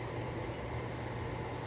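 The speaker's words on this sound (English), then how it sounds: "Sorry about the fan in the background" A household electric fan runs steadily near the microphone in a home kitchen, giving a constant broadband whir with a low hum and no pauses, heard alone.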